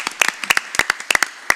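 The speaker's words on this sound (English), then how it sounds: "So let's give them a round of applause." A few people in a school board meeting audience give brief, scattered applause: sparse, crisp individual claps in an uneven rhythm, fairly close and heard alone.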